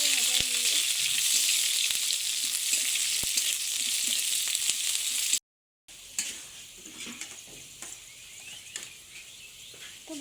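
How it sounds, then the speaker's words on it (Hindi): Chili, garlic and onion frying in hot oil in a tribal home cooking setting for egg and dal, a loud continuous sizzle with stirring scrapes; after a brief gap the frying carries on softer with intermittent crackles. "मरीच और रसुन और प्याज एमावा हुई नोहा मस्त भाजा हुई"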